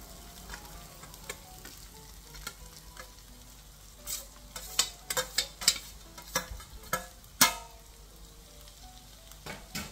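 Poha and potatoes are stirred in a pan over a low sizzle, with a run of close, irregular scraping and tapping strokes that build in the middle, no voices.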